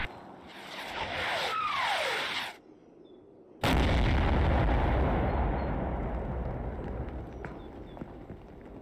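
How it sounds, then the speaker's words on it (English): Mortar rounds exploding in the WWII strategy game Combat Mission Fortress Italy: a sharp, loud blast at about 3.6 seconds sets off a long, heavy rumbling roar that fades slowly, after earlier muffled battle noise and a short silence. "it has allowed me time to call in my own mortar rounds"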